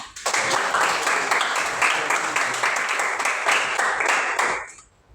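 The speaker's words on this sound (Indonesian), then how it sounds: "Oke, beri tepuk tangan." A school class bursts into applause, dense rapid clapping from many hands that starts abruptly, holds steady and loud for several seconds, then fades out.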